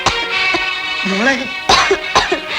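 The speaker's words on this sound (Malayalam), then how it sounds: "എന്തൊരു ചുമയായത്?" A person with chest pain coughs in a Malayalam drama scene, with a few sharp, close, loud bursts spread through the moment and strained voiced sounds between them.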